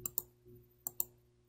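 Computer mouse clicks while working in survey authoring software: four sharp, close clicks in two quick pairs over a quiet room hum.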